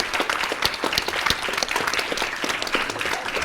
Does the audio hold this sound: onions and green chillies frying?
no